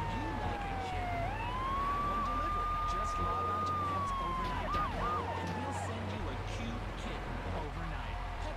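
A police car siren wails continuously in GTA 3 Definitive Edition, its pitch rising and falling in a steady cycle over a low engine rumble, sounding close and prominent.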